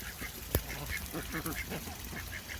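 Several ducks quack repeatedly nearby, a busy overlapping chatter with one sharp knock partway through.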